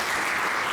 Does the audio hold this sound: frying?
no